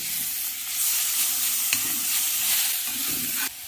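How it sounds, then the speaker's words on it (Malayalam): Spice masala and chopped tomato fry in a hot pan for a vendakka masala, giving a steady, close sizzle. Stirring scrapes and clacks come at intervals over the hiss, with no talking. "മസാല ഈ ചൂടിക്കിടന്ന് മൂത്ത് കഴിയുമ്പോൾ നമ്മൾ അരിഞ്ഞു വെച്ചിരിക്കുന്ന ടൊമാറ്റോ ചേർത്ത്"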